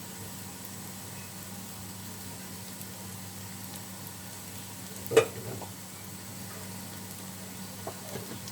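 Okra simmers in tomato sauce in a pan on a gas stove, giving a faint, steady sizzle and bubbling throughout, with one brief clatter midway.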